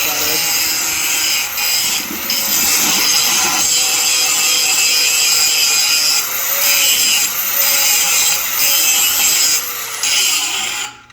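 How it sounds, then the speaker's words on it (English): An angle grinder held in both hands cleans the bevel edge of a steel weld test plate, a loud close abrasive whine with rhythmic scraping passes and brief dips as it lifts off. "So you take your grinder in both hands, face shield down,"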